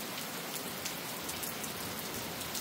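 Steady rain falling on a houseboat, a dense even patter of drops at moderate level, with no talk.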